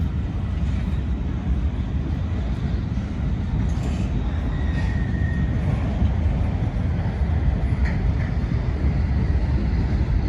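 A low, steady rumble of CSX freight locomotives passing far off near a railroad crossing, continuous and even throughout with no talk.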